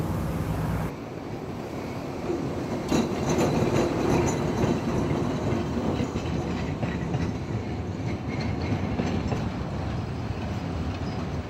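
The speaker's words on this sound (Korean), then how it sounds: "일주일에 3번 지나는 이 기차를 아이들은 하루 종일 기다렸다" A passenger train rolls past an Indio village in the Andes, its broad rumble and wheel clatter steady and close for the whole stretch, with no talk over it.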